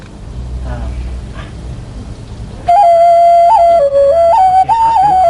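A sustained tone from a pitch-adjustable Thai khlui flute enters after a few seconds of quiet background noise, sliding up and down between pitches, clear and close.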